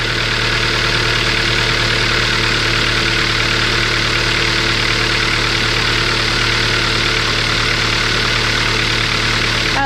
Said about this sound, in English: That is a pretty quiet engine altogether.